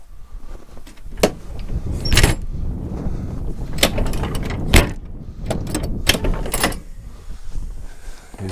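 The cab door of a Case 580 Super K backhoe, fitted with new struts, swings open with a series of sharp metallic clunks and clicks spread irregularly over several seconds, close to the microphone.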